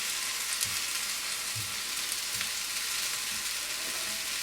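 Leeks and vegetables fry in a pan, a soft continuous sizzle with faint crackles and a few gentle thumps of movement, close and steady with no talk.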